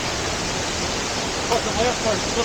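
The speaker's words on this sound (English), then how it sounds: "There's a waterfall right down below us" A waterfall below a steep downhill jungle trail in Colombia, a steady broadband rush of falling water heard from a distance, with a few faint voice sounds partway through.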